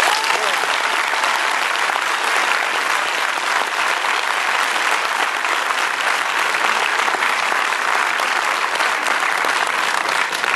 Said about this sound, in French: je voudrais entendre un tonnerre d'applaudissements de public heureux